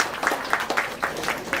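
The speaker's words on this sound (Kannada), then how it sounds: "ಪ್ರಭಾಕರ್ ದೊಡ್ಡ ಕೈ ಚಪ್ಪಾಳೆ ಸಲ್ಲಬೇಕು" Scattered applause from a crowd gathered at a housewarming celebration for Yakshagana artists in Tenkakarandur, a few distinct claps in uneven bursts at moderate level, with no speech over it.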